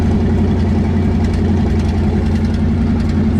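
Loud, steady rumble of a 1983 Fox Body Mustang GT V8 with its exhaust dump opened, idling close by with no talk over it.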